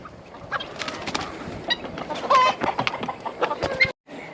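Chickens on an Australian permaculture farm cluck close by in short, irregular bursts, with a few higher squawks mixed in, then a brief moment of quiet near the end.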